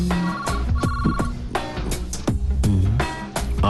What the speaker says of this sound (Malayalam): Phone anti phone.